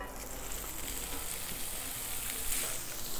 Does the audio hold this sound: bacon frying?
yes